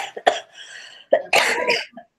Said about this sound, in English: I'm so sorry about the coughing, people